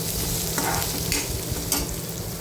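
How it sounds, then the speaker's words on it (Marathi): Garlic and finely chopped onion fry in a pan with a steady, dense sizzle, punctuated by two or three scraping stirs of a spoon; close and fairly loud, with no voices. "लसूण चांगला परतून घ्यायचा आहे आपल्याला आणि त्याच्यानंतर बारीक चिरलेला कांदा टाकायचा आहे त्याच्यामध्ये कांदाही व्यवस्थित परतून घ्यायचा आहे"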